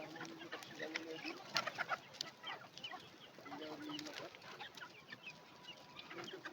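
Chickens three to four months old cluck and chatter continuously in a poultry shed, a dense, moderately loud flock murmur with scattered sharper calls and no clear talk.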